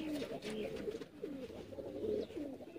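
Umbrella-type pigeons coo in repeated soft, throaty phrases, close and fairly quiet, with several rolling calls across a few seconds.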